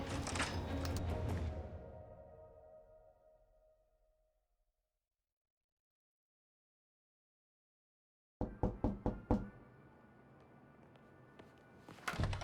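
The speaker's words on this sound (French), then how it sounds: "Toc toc." Knocking on a door in the video game Marvel's Spider-Man: a fading tone dies into silence, then a quick cluster of sharp raps comes through, followed by softer thuds.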